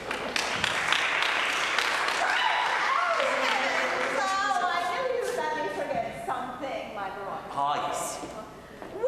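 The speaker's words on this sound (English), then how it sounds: "Do give yourselves a round of applause." An audience applauds in a hall after a talk, a dense wash of clapping that is strongest at first and then fades beneath a speaking voice.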